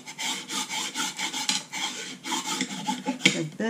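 A sheet stuck down on a gilded card is burnished by hand, giving a close, steady rasping rub in repeated back-and-forth strokes, fairly faint, with one small click near the end.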